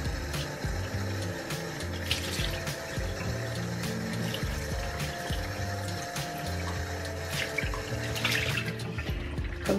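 A dish is rinsed under a running kitchen tap, a steady stream of water splashing and pattering close by, alone and without talk.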